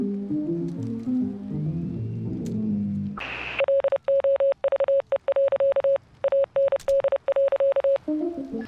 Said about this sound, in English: that Morse code's really fast